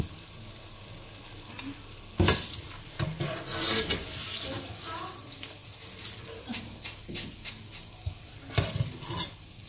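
Oil sizzles and crackles steadily while goby fish fry, with sharp louder bursts of spattering and some scraping in the pan.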